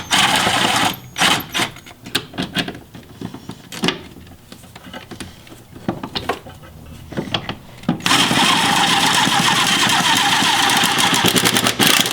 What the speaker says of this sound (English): I got those parts tightened with the gun